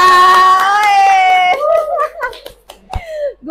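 Children in a classroom clap game, loud chanting voices with sharp hand claps scattered among them, the rhythm loosening toward the end as the group voice breaks up.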